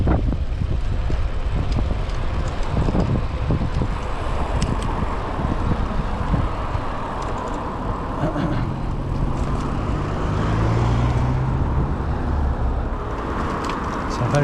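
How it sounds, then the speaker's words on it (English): Busy road traffic passes close by while riding a Brompton e-bike uphill, a steady roar of cars and trucks mixed with wind buffeting the microphone throughout, with a louder vehicle swelling past near the end. "It's a very busy road."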